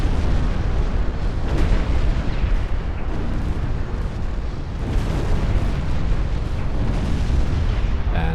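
Warship secondary guns firing in a naval warfare game, a dense continuous rumble of blasts and booms with overlapping distant explosions, heavy and sustained throughout.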